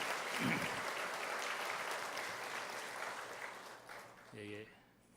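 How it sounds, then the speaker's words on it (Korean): A church congregation applauds the students and teachers, a full, sustained round of clapping that slowly fades, with a short spoken voice near the end. "오늘 수고한 모든 우리 학생들 교사들에게 박수하겠습니다."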